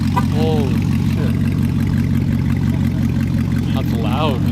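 A Nissan R35 GTR's engine idles loudly and steadily close by, a deep continuous rumble that runs the whole time while someone talks over it.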